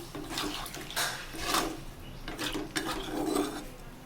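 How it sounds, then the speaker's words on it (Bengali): Water poured lightly into a cooking pot of bitter gourd and pumpkin vegetables in a home kitchen, a steady splashing flow with small surges, close and moderately loud. "এই যে হালকা জল ছেড়ে দিলাম"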